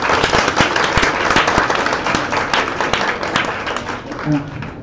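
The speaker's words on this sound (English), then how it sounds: "Please give him a round of applause." An audience at a live event gives a round of applause, a dense burst of clapping that carries on for several seconds and fades slightly toward the end.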